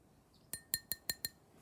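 A blue drinking glass holding a little water and cranberry juice clinks five times in a quick, irregular series of bright, ringing taps, close and fairly quiet against a still background.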